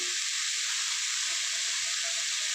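A steady, even sizzle of yardlong beans frying in a pan, a soft continuous hiss with faint crackles and no voices.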